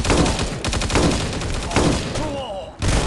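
Dense, rapid bursts of gunfire from the mobile shooter Guns of Boom crackle continuously through a brawl match, with a brief break near the end before the shots resume loudly.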